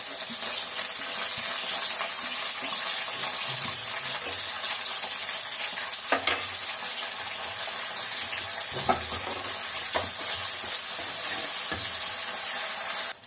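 Chopped country onions and curry leaves fry in hot oil for a mutton curry, giving a soft continuous sizzle with a few clinks and stirring scrapes, close and steady without speech.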